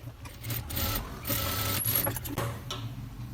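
A sewing machine stitches the sleeve joint of a blouse in short, close bursts of rapid mechanical whirring, separated by brief pauses and faint handling clicks.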